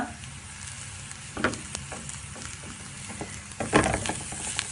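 Onion masala with spice powders and coriander leaves sizzling in a pan for an egg puff filling, a close, steady hiss broken by a few louder scraping stirs.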